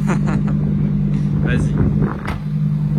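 A Lamborghini Huracan Evo V10 hums with a steady, close, low engine drone while driving along the Seine. Voices talk over it throughout.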